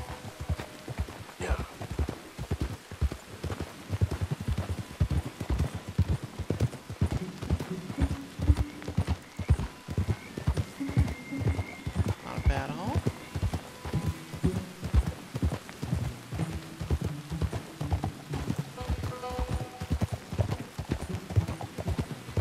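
Horse hooves clip-clop in a steady walking rhythm throughout in Red Dead Redemption 2, moderately close and fairly quiet, with faint ambient game sounds underneath and no talking.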